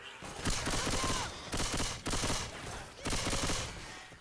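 Machine gun fire in Left 4 Dead 2, three or four long sustained bursts of rapid shots separated by short pauses, loud and close, with no voices.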